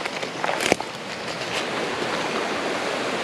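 A river flows with continuous rushing water at a steady level, with a few brief rustles and a sharp knock early on, heard outdoors in the bush.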